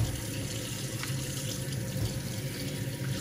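Tap water running steadily into a sink for rinsing, a continuous close splashing hiss with no pauses.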